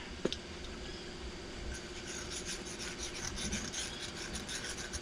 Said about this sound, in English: I have this little diamond file here that I'm using to deburr with.